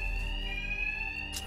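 Alarms blare in the video game Batman Arkham Knight: a loud, steady electronic alarm tone holds continuously, ending with a short burst of noise.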